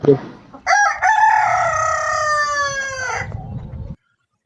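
Recorded crow of a show rooster, a single long loud call after a brief clipped start, holding steady before a raspy gargled ending and a sudden cutoff.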